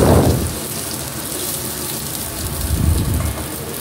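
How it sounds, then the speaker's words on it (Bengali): Onion and capsicum, with a couple of green chillies, fry in a pan for spicy chilli chicken, giving a steady, dense sizzling hiss that is loudest at the start and continues without pause. "এবারে পেঁয়াজ আর ক্যাপসিকামটা দিয়ে দেব, দিয়ে হালকা ভেজে নেব"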